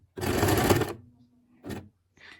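Sewing machine stitching felt in a short run of rapid stitches, then a pause and two briefer bursts of stitching, close and clear.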